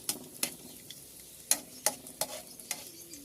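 Onions sauté in a pan for Bicol Express with ampalaya, a faint sizzle broken by sharp scraping stirs and clinks at an irregular pace, close and without talk.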